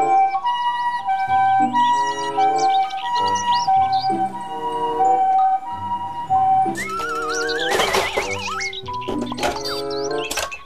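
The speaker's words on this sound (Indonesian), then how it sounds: "ambulans." A wailing toy ambulance siren tone sweeps up and down alongside bright electronic toy-like melodies, loud and continuous throughout.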